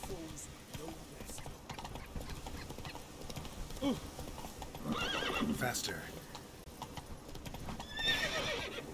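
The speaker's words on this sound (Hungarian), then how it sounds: "Nyugodjál már meg, te ló!" A horse in The Witcher 3 game gallops with rapid clip-clop hoofbeats and lets out neighs and whinnies, moderately loud, while someone speaks over the action.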